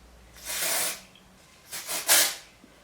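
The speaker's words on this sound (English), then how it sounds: "you just spray a little bit on the partings" Hair spray is sprayed onto the partings of sectioned hair. There is one longer hissing burst, a pause, then two quick close bursts, with no talking.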